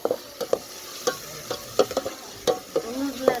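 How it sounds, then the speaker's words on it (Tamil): Goat head curry being stirred in a pan, the spoon clinking and scraping in quick irregular strokes over a low simmering sizzle, close and without talk. "நல்லா போட்டு நல்லா கிண்டி எடுத்துக்கலாம்"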